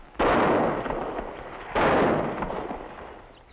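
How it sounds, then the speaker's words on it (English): Two sharp gunshots from a 1950s western, rifle and pistol fire, each a loud sudden crack about a second and a half apart followed by a long echoing decay. "Now I'd like to see some real shooting, Cisco."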